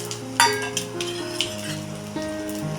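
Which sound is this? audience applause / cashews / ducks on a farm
cashews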